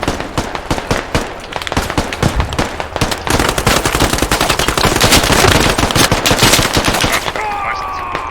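Sustained, loud automatic machine gun fire in the military shooter game Squad, dense rapid bursts filling the whole stretch with sharp cracks and overlapping shots at close range.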